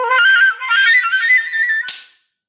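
At the close of a piece, a bright sustained wind tone with wavering pitch runs for about two seconds and ends in a single sharp snap-and-pop burst, then silence. No talk.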